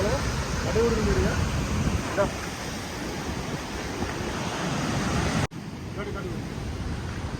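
Water rushing through a gate of the Kadem dam project, a dense, steady roar that fills the whole stretch and stays loud and unbroken apart from one brief dip near the end.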